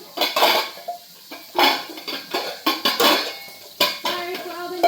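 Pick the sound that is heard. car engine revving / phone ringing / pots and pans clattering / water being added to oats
pots and pans clattering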